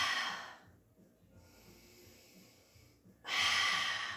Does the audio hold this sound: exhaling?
yes